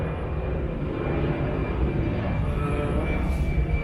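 An airplane flies over close to an airport, a steady, loud, broad roar that holds at an even level for the whole stretch with no voices over it.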